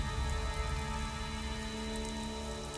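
Steady rain falls and patters on surfaces, a dense, even hiss of drops that stays constant throughout with no voices.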